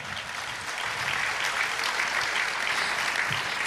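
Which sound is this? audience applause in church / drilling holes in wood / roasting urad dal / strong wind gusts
audience applause in church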